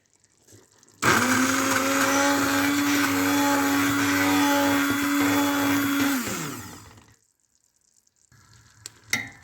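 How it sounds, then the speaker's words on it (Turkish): A blender whirs loudly and steadily for about five seconds pureeing damson plum jam, then spins down and stops, leaving quiet with a few faint clatters. "Şimdi blenderdan geçireceğim."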